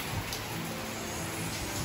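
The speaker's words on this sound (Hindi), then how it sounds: "बहुत तेज़ बारिश हो रहा है, बहुत तेज़।" Heavy rain pours steadily in a continuous broadband wash, loud and unbroken throughout with no voices present.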